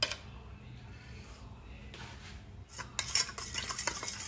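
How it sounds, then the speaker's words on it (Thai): A tamarind marinade with palm sugar and seasoning powder being stirred in a bowl for grilled pork belly, giving soft scraping and clinking of a spoon against the bowl that grows louder and busier toward the end. "คนส่วนผสม"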